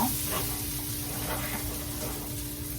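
Onions frying in a skillet give a steady, close sizzle and hiss with faint stirring scrapes, continuous throughout with no voices.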